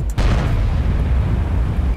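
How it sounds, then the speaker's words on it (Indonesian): In the World of Tanks video game, a sharp explosion boom hits near the start, followed by a heavy rumbling low roar that sustains loudly to the end. "Sudah terdengar suara dentuman-dentuman yang berbahaya di sini."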